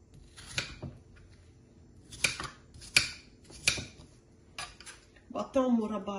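Apple pieces dropped into a frying pan while making custard dessert with apple and cinnamon: several sharp clinks and knocks spaced about a second apart, close and moderately loud, ending in a brief sizzle-like rustle.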